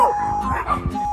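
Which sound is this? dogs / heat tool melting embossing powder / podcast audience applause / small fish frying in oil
dogs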